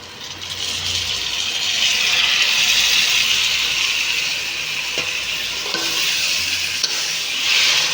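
Chicken frying in mustard oil with turmeric gives a steady, loud, close sizzle that runs without a break, with a few faint clinks of stirring near the end.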